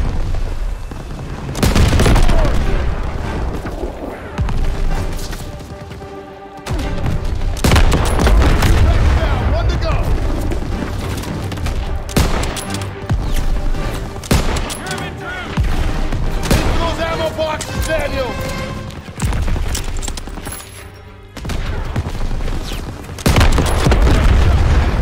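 Battle in Call of Duty WWII during Operation Cobra, 1944: heavy booming explosions and rattling gunfire from supporting fire hit repeatedly at close range, loud and sustained, with shouted voices now and then in the chaos.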